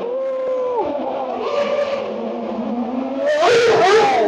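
Sebastian Vettel's 2012 Formula 1 cars pass by, each a loud, high-pitched engine scream that sweeps down in pitch as it goes; the second pass near the end is the loudest, with an excited crowd and voices in the background.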